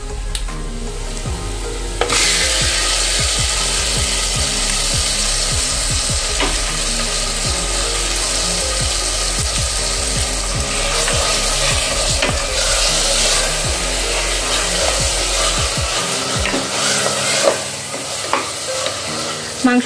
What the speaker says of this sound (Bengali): মাংসটা দেখো এখানে বেশ ভালোভাবে কষে গেছে,